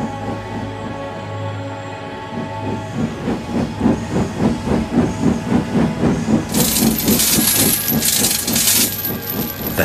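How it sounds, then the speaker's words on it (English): A steam locomotive in a Thomas the Tank Engine remake chuffs in a steady rhythm, then a loud, sustained hiss of released steam joins in over the last few seconds, with no voices. "Thomas wheeshed and set off an old steam whistle."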